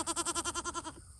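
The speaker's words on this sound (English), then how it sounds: "those baby goats" A baby goat gives one quick, wavering bleat close to the microphone, a rapid run of about nine pulses that fades out at the end.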